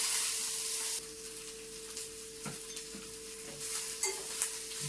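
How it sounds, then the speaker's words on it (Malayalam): Spinach leaves go into a hot pan over a low flame for a Kerala leaf thoran, giving a soft, faint sizzle with a few light stirring clinks and a steady background hum. "എന്നിട്ട് ഈ ചീരയില അങ്ങോട്ട് ഇട്ട് കൊടുക്കുക"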